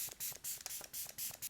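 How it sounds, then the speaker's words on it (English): D'Alba First Spray Serum mists onto a face in a rapid series of short hissing spritzes, close and crisp, with no talking. "I'm going to do a quick spritz of my D'Alba First Spray Serum."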